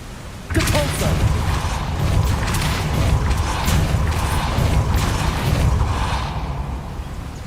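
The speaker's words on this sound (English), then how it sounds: "Depulso." A Depulso spell cast in the Hogwarts Legacy video game: a sudden forceful burst after a brief quiet moment, followed by a sustained rumbling, crashing wash of magical effect noise that slowly fades.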